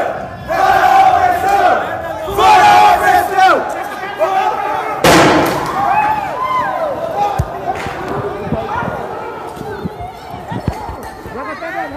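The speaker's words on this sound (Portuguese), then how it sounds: "Polícia jogando mais bombas, tiros de bala de borracha" Loud outdoor clash in a favela with a shouting crowd, punctuated by sharp blasts and bangs from riot police gas bombs and rubber-bullet shots, one especially strong burst near the middle.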